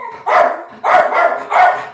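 A dog barks three times, loud and close indoors, with each bark followed by a short trailing yelp and brief pauses between them.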